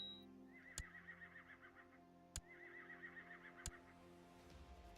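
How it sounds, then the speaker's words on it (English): A horse whinnies twice in Crusader Kings 2, each neigh a quavering whinny lasting about a second, with sharp thumps between them against a quiet game backdrop. "We're gonna saddle my horse."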